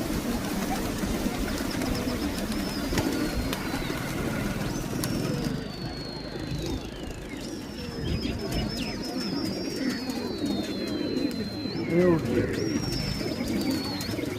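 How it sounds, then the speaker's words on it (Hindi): Pigeons coo outdoors, joined by thin whistling bird chirps above a busy, rustling background that runs steadily throughout. "एक कबूतर बैठ गया"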